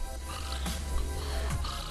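A man imitates snoring with his voice, a rough rasping snort drawn out over a couple of seconds, loud and close with no other talking.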